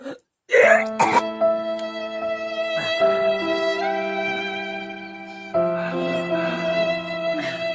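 A throat is cleared or a short cough is given, then a long sustained tonal drone continues steadily underneath with a second harsh burst partway through.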